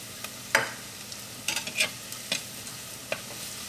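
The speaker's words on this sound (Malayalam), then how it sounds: "ആ മഞ്ഞൾപ്പൊടി എണ്ണയിൽ കിടന്ന് നന്നായിട്ടൊന്ന് മുരിഞ്ഞിട്ടുണ്ട്" Turmeric, onion and ginger frying in oil while being stirred, a soft steady sizzle broken by sharp scraping and clinking strokes of a spoon in the pan.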